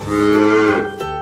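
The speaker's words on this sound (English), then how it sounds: "cow," One cow gives a single loud, close moo that swells and then trails off abruptly, heard alone.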